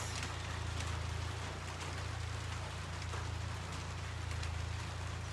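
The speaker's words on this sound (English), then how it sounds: "Hear the rain?" Steady rain patters continuously on a surface, an even hiss with scattered drops over a low engine-like hum, no voices.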